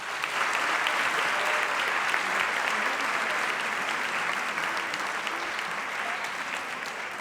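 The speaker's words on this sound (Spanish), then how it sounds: "Yo quisiera iniciar pidiendo para ellos y para ellas un fuerte aplauso" A full auditorium audience claps steadily, a thick, sustained round of applause that stays strong and gradually eases a little toward the end.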